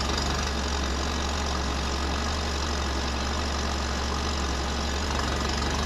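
Fiat X1/9 engine runs steadily with its air conditioning compressor engaged, a continuous dense hum and faint rattle throughout, close and even.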